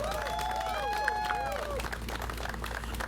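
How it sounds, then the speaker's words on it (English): Audience applause at a county government event, dense clapping with some crowd noise, steady and fairly close, with a brief tonal whine in the first two seconds. "Let's give everyone a round of applause"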